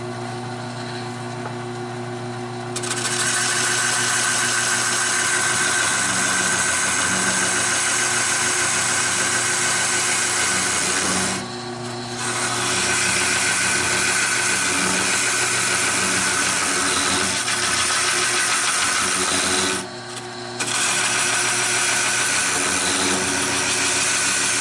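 A carbide lathe tool cuts a birch wood bowl on a spinning lathe, a steady mechanical drone with a scraping, tonal hum, broken by two brief dips where the cutting pauses.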